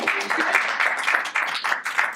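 Enthusiastic audience applause at an evening event, a steady wash of many hands clapping at moderate loudness with slight swells, no voices over it.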